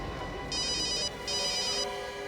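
A phone ringtone plays two bright electronic bursts separated by a short gap, loud and clear over a faint steady background hum.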